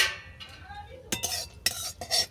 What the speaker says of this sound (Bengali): ফোড়নটাকে আমি ভালো করে ভেজে নেব